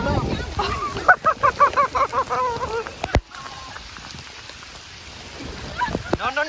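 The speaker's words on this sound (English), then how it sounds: "Rain is coming towards us." Sudden heavy rain pours down in Goa as a steady, loud hiss outdoors. Voices talk over it through the first half, and a single sharp knock cuts in midway.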